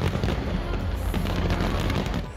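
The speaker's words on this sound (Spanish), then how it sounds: "También hubo un show de luces y fuegos artificiales en la puerta de Brandeburgo de Berlín." Fireworks at a New Year's celebration at the Brandenburg Gate in Berlin, a dense continuous rumble of overlapping blasts and crackling bursts, loud and sustained with no voices.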